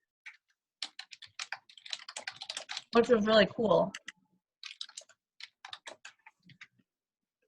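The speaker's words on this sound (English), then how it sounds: "I was typing notes" Notes typed on a computer keyboard during an online meeting, a quick run of light, close clicks bunched together under and between spoken remarks.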